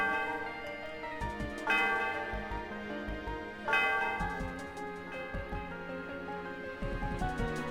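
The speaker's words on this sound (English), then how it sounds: "Sound of the bell reverberates through the area." The bell of the Celestial Tower in the game Pokémon White rings with deep, resonant strikes over a sustained, chiming musical backdrop, each stroke swelling and slowly decaying.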